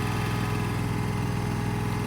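A log splitter's small engine warming up, running at a steady, loud, even idle with a low rhythmic chug throughout and no voices.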